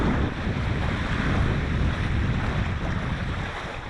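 Choppy lake water and gusting wind in the Lake District produce a loud, continuous rushing roar dominated by low wind buffeting on the microphone, with the waves blended underneath and no voices.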